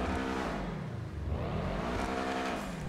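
A Benefactor SM722 car engine in the video game GTA Online revs loudly and continuously, its pitch sweeping up and down as it accelerates, with no talking.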